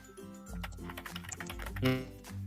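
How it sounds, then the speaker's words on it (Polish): Rapid clattering keystrokes on a loud computer keyboard during BlockStarPlanet parkour gameplay, a quick irregular stream of clicks heard close up. "mamy najgłośniejsze klawiatury w całej Europie"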